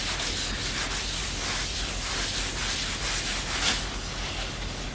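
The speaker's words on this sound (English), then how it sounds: "We're gonna put some Hampshire sheen on it now." A cloth or pad rubs Hampshire Sheen finish onto a curly maple bowl spinning on a wood lathe, giving a steady, close hiss of friction with a low motor hum underneath and no talking.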